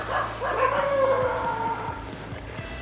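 A small dog barking and yipping outdoors on a walk toward a beach, several short sharp barks in an irregular series over a steady low hum.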